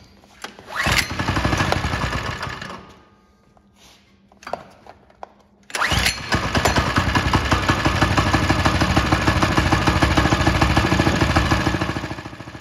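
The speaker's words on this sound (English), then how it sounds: "So I'm gonna start it up again here, and then you can watch how it operates" A Mototec Mud Monster 98cc gas go-kart engine sputters briefly, dies, then starts again and runs at a steady, loud idle close by with no talking.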